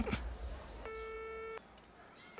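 Telephone busy tone after a call is cut off: a steady electronic beep sounding once, pausing, then starting again, fairly clear over a quiet background with a brief voice at the start.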